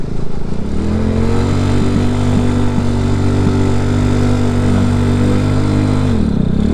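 RPS Condor 250cc motorcycle fitted with a modified stock exhaust idles loud and close, a steady low throb with a brief blip, then the engine cuts off at the end.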